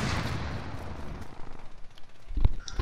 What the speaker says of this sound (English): I hear them shooting